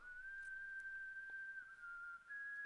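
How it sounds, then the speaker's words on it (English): A clear, sustained whistle melody from a played song, holding a bright steady tone with slight pitch shifts, fairly quiet and alone without talk. "Oh, it's a whistle."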